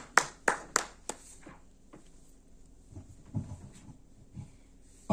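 A church congregation claps during a Sunday service to acclaim Jesus. Four or five sharp, close hand claps land in quick succession, then only faint, scattered sounds follow.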